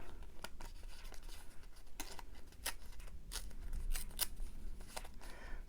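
Artymaze paper is torn and worked by hand for a junk journal, a series of short crisp rips and rustles spaced irregularly, quiet and close with a faint room hiss beneath.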